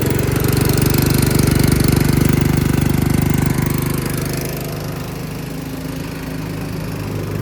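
A sugarcane juice machine's motor drones steadily and loudly with rough mechanical chugging throughout, easing slightly in level midway but continuing without pause.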